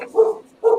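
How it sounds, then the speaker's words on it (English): Two close, sharp dog barks sound about half a second apart, loud and alone, each a short mid-pitched woof. "Your dogs are barking."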